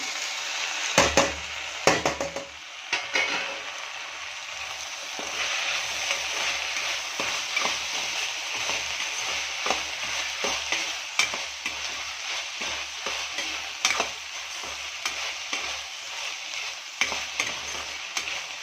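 Tomatoes sizzle and fry with okra in a pan, a steady crackling hiss broken by repeated scraping stirs of a spatula, with a few louder clatters near the start.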